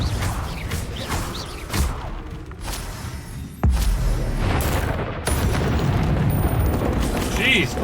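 Confringo blasting curses explode amid a busy Hogwarts Legacy fight, dense booming bursts and crackling impacts layered over continuous battle noise, with a sharp loud blast near the middle and sustained rumbling afterward.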